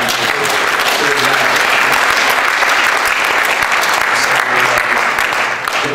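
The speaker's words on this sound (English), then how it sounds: "So round of applause for Brian." Loud, sustained applause fills a symposium hall after a sustainability education presentation, many hands clapping densely and evenly from start to finish with no break.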